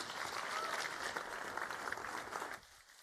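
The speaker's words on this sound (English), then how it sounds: "please give them a big round of applause, Frederikke and Simone from Mewalii." Sustained audience applause at a startup event, a dense wash of clapping that holds steady for a few seconds, then drops off sharply near the end.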